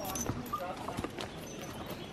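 Horse hooves clip-clop at close range as saddled horses are readied for a trail ride in Catalonia, a loose run of light knocks over steady background noise with quiet voices.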